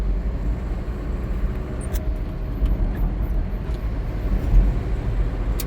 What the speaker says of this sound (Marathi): हे बघा या सगळ्या मोठ्या गाड्या आहेत ज्या कशेळी घाट चढून येत आहेत